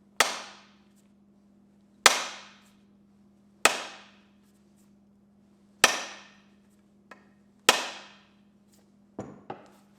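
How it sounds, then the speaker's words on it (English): Rubber mallet striking the bottom of an axe handle to seat the head, five solid evenly spaced thuds about two seconds apart with faint knocks between, ending in a couple of lighter taps. "give it some good taps with a rubber mallet here on the bottom of the handle"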